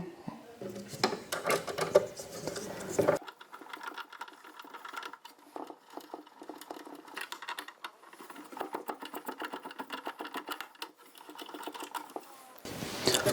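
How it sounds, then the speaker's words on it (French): Screws holding the heating element in a CUBE unit's casing are undone with a powered screwdriver, giving several short whirring bursts with quieter gaps between them. "desserrez la résistance par les deux vis dans les angles"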